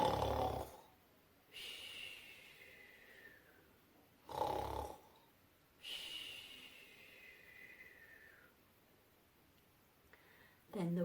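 A young child imitates snoring: three drawn-out snorting breaths, each followed by a wheezy exhale, separated by short pauses, close and fairly quiet.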